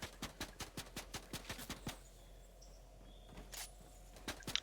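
Rapid gunfire in the Fortnite video game, a steady burst of about a dozen evenly spaced shots, then a pause and a few more scattered shots, fairly faint with no talking.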